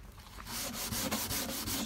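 Painted wooden floorboards are scrubbed by hand after spraying, a steady rhythmic gritty rubbing with repeated back-and-forth strokes, close and fairly loud.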